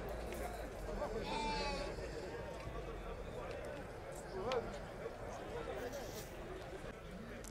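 Sheep bleating among a flock at a livestock market in Hassi Bahbah, Algeria, several wavering calls over a busy background of crowd chatter and shuffling.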